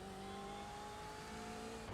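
A BMW M8 GTE race car in the iRacing game at Road America, its engine droning steadily and fairly close as it brakes lightly and coasts through a corner.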